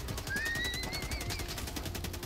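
Rapid automatic gunfire rattles in Helldivers 2, a dense, evenly spaced burst of shots with a thin whistling tone gliding over the top for a couple of seconds.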